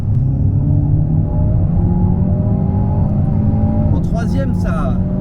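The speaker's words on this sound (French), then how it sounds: "Et alors entendre le bruit du moteur, c'est vraiment sympa." An Alpine A110 Légende GT with a valved exhaust in sport mode pulls hard, its engine a loud, close, steady droning growl that holds throughout, with a brief voice heard near the end.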